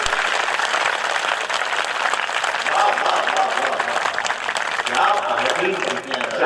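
Applause from the audience at an all-India Hindi poetry recital, a kavi sammelan, sounds loud and sustained across the hall, with a voice partly audible through the clapping.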